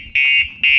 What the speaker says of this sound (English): alarm's going off, telling us on the app